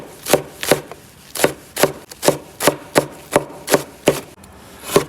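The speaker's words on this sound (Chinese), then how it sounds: "切点葱姜" A knife chops scallions and ginger on a cutting board in about a dozen sharp, evenly spaced close strokes, each a crisp thud, with no talk.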